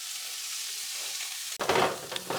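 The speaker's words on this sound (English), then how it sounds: "I'm just going to let those sear for about 2 minutes on each side." A rack of lamb sears in a hot pan, giving a steady, close sizzle that bursts into louder crackling spatter partway through as the meat shifts.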